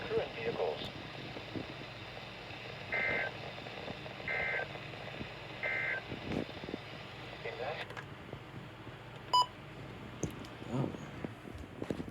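Emergency Alert System alert tones during a flash flood warning, three short repeated tone bursts early on and a brief high beep later, faint under background noise, with a person speaking around them.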